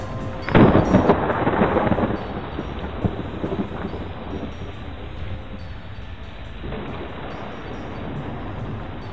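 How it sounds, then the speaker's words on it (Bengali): A thunderstorm with heavy rain for an audio drama. A loud thunder crash opens it, then a long rolling rumble fades under a steady wash of rain. "কিছুক্ষণ পরে ঝড় বৃষ্টির তাণ্ডব আরও বাড়ল"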